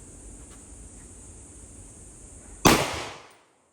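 A single sharp gunshot fired at a target outdoors, loud and close, with a short decaying tail after a quiet stretch of background hiss.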